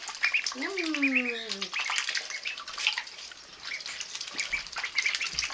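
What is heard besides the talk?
ducks squawking as water is poured into a bin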